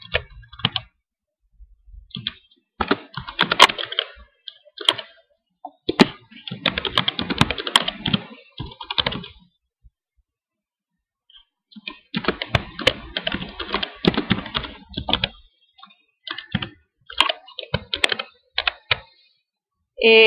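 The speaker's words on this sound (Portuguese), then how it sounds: "Agora, na opção incorreto, eu vou digitar a seguinte mensagem." Keys clatter on a computer keyboard as a message is typed, in quick bursts of clicks separated by short pauses, close and clear with no talking.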